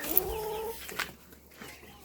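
Chicks on a household farm clucking and peeping faintly, a few brief soft calls over a quiet background, no voices.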